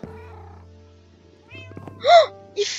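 A Minecraft cat meows twice near the end, a clear rising-falling mew followed by a shorter one, over a low steady game hum and faint background tones.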